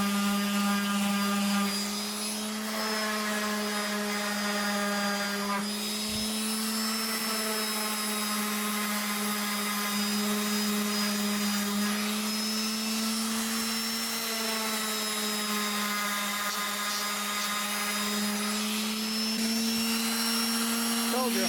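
Wooden coffee scoops cut on a Onefinity CNC are sanded with a power sander, giving a steady droning whir that holds for the whole stretch with slight dips in pitch, no talk over it.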